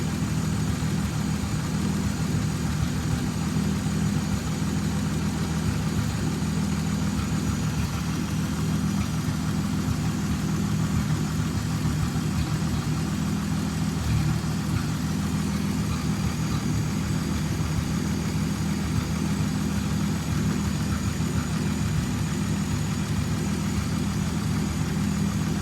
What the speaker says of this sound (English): With the engine running nice, the bonnet could be fitted